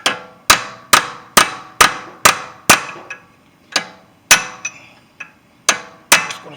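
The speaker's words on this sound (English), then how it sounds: "just use a punch and a hammer like this." A hammer strikes a metal punch on a BMW 328i CV axle, giving a series of sharp ringing clangs about every half second, loud and close, with short pauses between a few of the blows.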